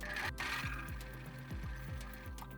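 A domestic sewing machine runs a zigzag seam on stretch fabric for a headband, a quiet, close mechanical whirr with evenly repeating stitch clicks in short runs and pauses.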